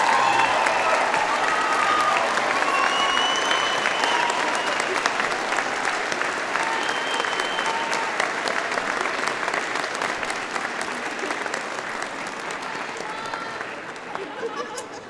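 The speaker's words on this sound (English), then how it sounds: "Graduates, a round of applause" Sustained, loud applause from a convocation audience for graduates rolls on steadily for about fifteen seconds, dense and full before easing slightly toward the end.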